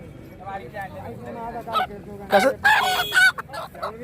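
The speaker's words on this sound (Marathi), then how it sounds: "गावठी कोंबडं सुद्धा आहेत इकडे विकायला" Country chickens offered for sale at the Mhasa village fair in 2025, with several clucking and squawking calls rising over steady crowd chatter and background noise.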